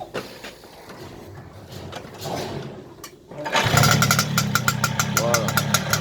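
A Peugeot 103 moped with a Malossi 70cc liquid-cooled kit and new exhaust sputters and catches partway through, then settles into a loud, close, buzzing two-stroke idle, with someone talking at the start.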